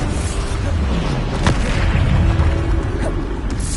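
Booming Bombarda spell explosions in Hogwarts Legacy go off repeatedly, loud and dense, with deep blasts layered over continuous rumbling battle noise.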